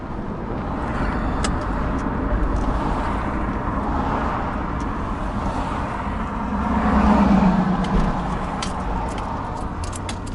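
A Volkswagen Scirocco drives along with a steady engine drone and road rumble heard from inside, swelling briefly as the engine revs up before settling again.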